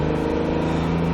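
Acura NSX engine on a race track, a close, steady mid-pitched drone with a strong constant tone, held loud for the whole brief stretch.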